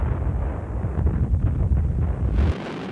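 An artillery barrage rumbles as a continuous deep, booming roar with rolling low thuds, loud and dense, then cuts off abruptly near the end.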